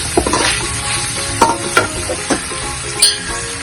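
Tofu sizzling in a hot pan with a little salt and chili powder for mee goreng, a steady frying hiss broken by several sharp scrapes and clinks of stirring, close and fairly loud.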